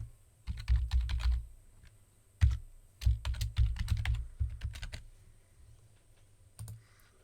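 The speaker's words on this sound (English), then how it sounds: "I'll enter my username and password," Typing on a computer keyboard to enter a username and password: bursts of quick, close key clicks separated by short pauses, fairly quiet, with no talking.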